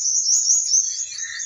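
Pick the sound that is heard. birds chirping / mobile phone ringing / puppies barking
birds chirping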